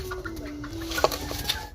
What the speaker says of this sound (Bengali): এখানে রাখা আছে দুটো কয়লার মুরগি